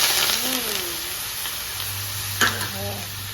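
Poha being stirred in a hot pan gives a soft scraping, sizzling texture, steady and close, with a couple of sharper utensil clinks and someone speaking over it.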